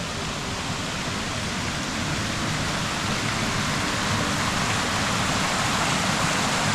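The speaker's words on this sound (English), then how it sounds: "Then we've got this other" A waterfall at Newstead Abbey in Nottinghamshire roars in a steady, dense rush of water, constant and close, with no voices.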